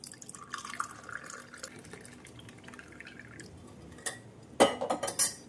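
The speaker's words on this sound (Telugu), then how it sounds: "ఇప్పుడు ఇలా గ్లాసులో కొద్దిగా తేనెను వేసుకొని మనం ప్రిపేర్ చేసుకున్న ఈ వాటర్ని ఇందులో ఫిల్టర్ చేసేసుకుందాం" Herbal decoction strained through a filter into a glass holding honey, a quiet close trickle and dripping, then a few sharper clinks of glass and utensil near the end.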